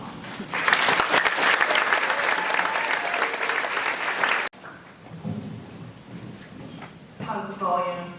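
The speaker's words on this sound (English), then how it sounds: "Graduates, please let Jaime and Samantha-Lynn know how excited you are to hear from them with a round of applause" A graduation ceremony audience for the 2025 Honors Huskies applauds in a loud, sustained round of clapping. It stops abruptly midway, and a voice then speaks in a quieter room.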